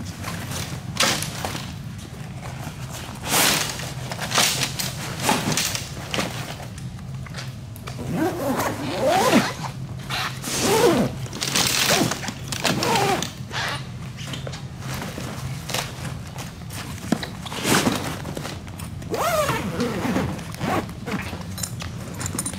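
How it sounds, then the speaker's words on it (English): A zipper is drawn closed along a large bag wrapped around a wing, giving a long series of loud, close rasping zip strokes with short pauses and some handling rustle between them. "We're gonna zip right up to it."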